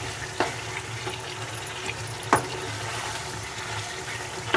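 Potatoes and tomatoes fry in a pan while a spoon stirs them, giving a steady sizzling hiss broken by a few sharp clinks and scrapes of the spoon against the pan.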